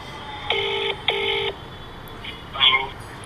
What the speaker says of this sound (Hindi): मैं इनको फ़ोन करती हूँ।